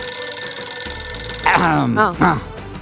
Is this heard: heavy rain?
no